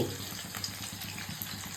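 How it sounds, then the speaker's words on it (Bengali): Chicken for chilli chicken fries in hot oil with a steady, fairly faint sizzle that continues throughout, no voices over it. "মাংস ফ্রাই করছো কেন গো?"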